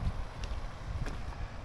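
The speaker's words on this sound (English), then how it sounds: "A little bit windy, which is kind of weird." Gusty wind buffets the microphone with low rumbling noise on a rock-grading and road-making site on the Big Island, Hawaii, a couple of faint clicks or knocks breaking through, no talking.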